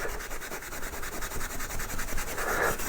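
Wire wool rubs back and forth over a carved wooden arts-and-crafts clock during finishing and polishing, a close, continuous scratchy scrubbing with steady rhythmic strokes.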